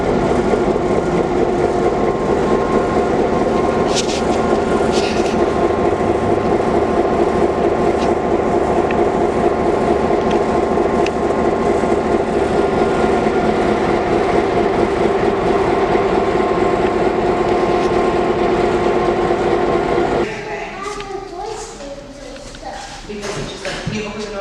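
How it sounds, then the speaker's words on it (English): Inside a heritage railroad car on the WhiteWater Valley Railroad, a loud, continuous rumble of wheels and rail noise carries on with a faint rhythmic clatter, then drops sharply quieter near the end. "this will be my first real, train ride"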